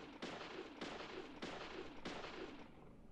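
Repeated gunshots from a video game Deadly Premonition, fired with infinite bullets: four sharp, loud booming reports spaced roughly half a second apart, each with a short ringing tail, no talking over them.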